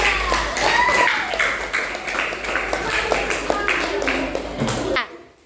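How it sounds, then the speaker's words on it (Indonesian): Children in a classroom clap for a group of classmates, a steady burst of overlapping claps and chatter that fills most of the moment before cutting off sharply. "tepuk tangan untuk kelompok 3"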